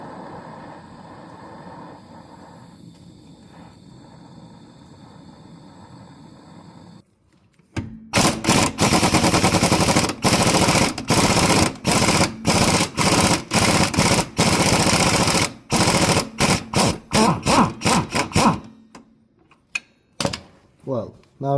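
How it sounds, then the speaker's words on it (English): Loud pneumatic impact gun hammering off a rear shock absorber bolt on a 2009 Honda Civic 1.8 petrol, several long rattling bursts with brief pauses, after a quieter stretch of workshop background noise. "The impact gun make it much easier for me"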